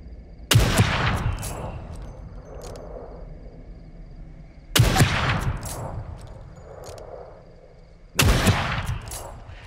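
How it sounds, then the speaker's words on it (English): Three loud, separate sniper rifle shots in The Evil Within 2, spaced about four seconds apart, each a sharp crack with a long reverberant tail and no talk over them. "So 3 shots with the sniper rifle does the job"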